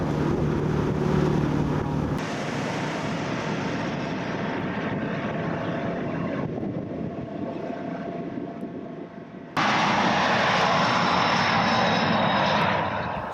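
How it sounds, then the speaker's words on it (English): A jet airliner takes off from Kowloon's airport in Hong Kong, its engine roar heard from a tour boat offshore, loud and steady with a surge in volume late in the pass. "our tour boat positioned itself off of Kowloon's airport, where we watched the takeoffs and landings"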